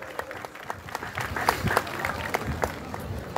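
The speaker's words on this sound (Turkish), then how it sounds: "Kendilerine kocaman alkış rica ediyorum." Applause from a crowd at the 20th traditional highland festival in Tekirdağ, a steady spread of claps with some sharper peaks, heard close and moderately loud under faint background voices.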